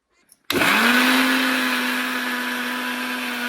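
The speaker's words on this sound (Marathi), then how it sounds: "हे आता लावून घ्यायचे मिक्सरला" After a brief quiet moment, a mixer grinder starts abruptly and runs loud and steady, its motor whining as it grinds a thick spice paste.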